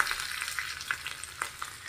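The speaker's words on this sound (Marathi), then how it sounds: "मी शेंगदाण्याचं तेल गरम करून घेतलेलं आहे। तुम्ही तूप वापरू शकता" Cumin seeds and chili pieces fry in hot peanut oil, giving a steady close sizzle with scattered pops and crackles, with no talking.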